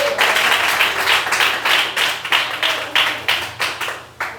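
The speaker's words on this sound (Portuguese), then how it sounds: "Aplaudam a Jesus." A church congregation applauds during a Portuguese-language worship service, a dense, steady wash of many hands clapping with rhythmic surges, fairly loud and close, with no talking over it.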